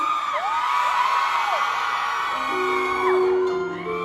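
A crowd at a live event gives a sustained cheer with rising whoops and yells layered over one another, loud and continuous for several seconds.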